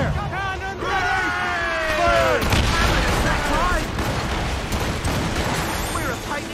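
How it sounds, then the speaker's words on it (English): Booming cannon blasts and crackling gunfire fill a loud naval battle scene in the video game Assassin's Creed Rogue, with shouted voices and a rising whistle cutting through the din. "Fire! Cannon Fire!"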